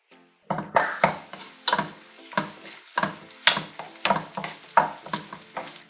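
Cashews and raisins frying in ghee on a tawa for rava laddu, a run of sharp close stirring clatters and scrapes over a crackling sizzle after a brief silent start.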